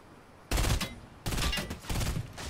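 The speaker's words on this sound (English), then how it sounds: "there's another guy shooting at me" Rapid bursts of automatic gunfire in the Fortnite video game, three loud close volleys with brief gaps between them.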